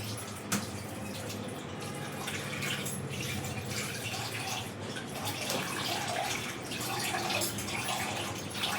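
Water is poured into a pot of lentil dal soup, a continuous gushing, splashing stream that runs unbroken and fairly loud for several seconds.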